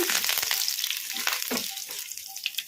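Curry leaves crackle and spit in hot oil with mustard seeds, cumin, urad dal and chana dal, a loud continuous sizzle with popping bursts, no speech.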